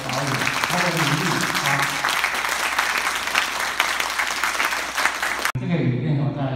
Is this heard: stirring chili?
no